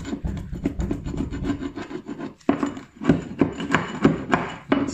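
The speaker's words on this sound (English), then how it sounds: "I can go around with a chisel and just clean up" A chisel scraping old linoleum glue residue from the corners of an MDF timber subfloor, producing close, repeated rough rasping strokes in an uneven rhythm with a brief pause midway.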